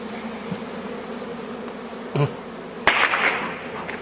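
Honey bees hum and buzz steadily in an opened beehive as the lower layers of honey and brood are exposed, with a close, continuous drone, a couple of sharp knocks and handling noises near the end.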